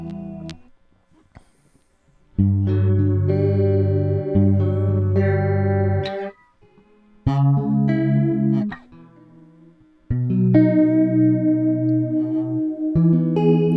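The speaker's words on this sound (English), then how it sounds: "It really goes through this whole phase thing of vibrato to chorus to dry and back and forth" Electric guitar notes and chords through a Warped Vinyl pedal, swirling through a wavering vibrato and chorus effect, played in several loud bursts with pauses between.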